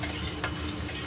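Sliced onion frying in a hot pan, a steady sizzle up close with soft scrapes of a spatula stirring through it, no voices.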